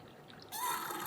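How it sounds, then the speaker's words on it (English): A siphon tool sucks old brake fluid out of the master cylinder of a 2013-2022 Buick Encore, a brief close gurgling slurp of liquid starting abruptly. "we're going to use a tool like this to siphon out the old fluid out of the master cylinder"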